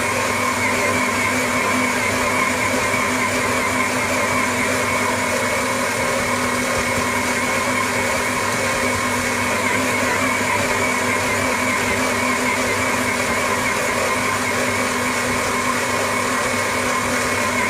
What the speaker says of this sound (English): Great stand mixer from EPAS.